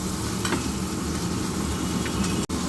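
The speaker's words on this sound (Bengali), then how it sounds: "ভালো করে ভাজা ভাজা হোক।" Steady, dense sizzling of cauliflower and potato frying in a pan, continuous and fairly loud with faint stirring scrapes.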